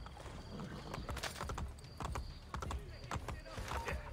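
Horse hooves clip-clop in a steady trotting rhythm in Assassin's Creed: Brotherhood, mid-level and continuous, with faint game ambience around them.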